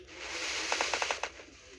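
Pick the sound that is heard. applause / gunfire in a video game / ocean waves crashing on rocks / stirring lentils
gunfire in a video game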